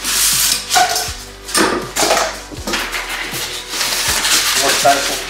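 Styrofoam packing being pulled from an arcade cabinet box, with bursts of squeaky rubbing, thumps and rustling close to the microphone, mixed with people talking.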